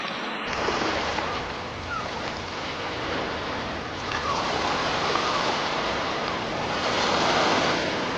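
Sea waves and wind roll steadily on a shore, a dense continuous wash of surf with gusty microphone buffeting throughout, loud and even with no voices.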